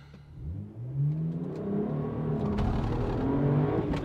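A BMW 1M accelerates hard from a standstill in a 0-60 run, its engine note climbing steeply in pitch, briefly dropping at a gear change, then rising again, close and loud with no speech.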